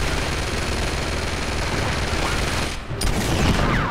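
Sustained gunfire in the video game Uncharted 2: Among Thieves, a dense, continuous fusillade at steady loudness that dips briefly near the end before resuming just as heavily.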